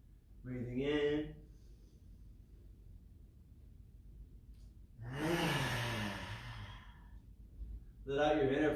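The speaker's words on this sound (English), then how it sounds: "why not add a little lion's breath? So just sticking the tongue out, opening the eyes wide" During a live online yoga class, a lion's breath is done as a forceful, breathy exhale with the tongue out, a long rough rush of air between stretches of talking.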